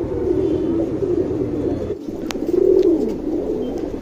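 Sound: Dhuma Regdar male pigeon cooing

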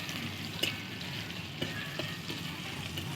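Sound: garlic paste frying in a pan

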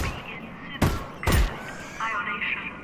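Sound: gunshots in the video game Half-Life: Alyx

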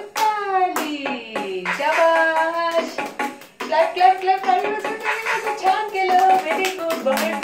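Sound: hand clapping by children

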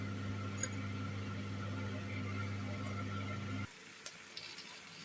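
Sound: beaten eggs sizzling with frying porcini mushrooms

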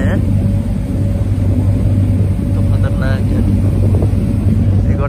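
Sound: boat engine rumble on a ship crossing from Guernsey

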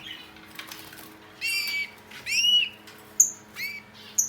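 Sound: male bird singing

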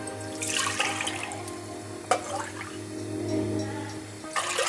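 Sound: pouring water into a pan

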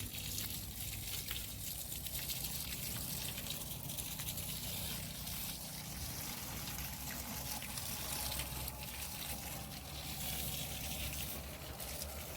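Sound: water flowing while watering grapevine plants

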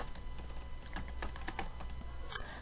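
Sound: typing on a computer keyboard, pressing F2 key

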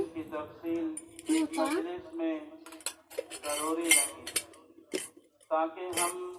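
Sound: handling small spoon and idli stand utensils

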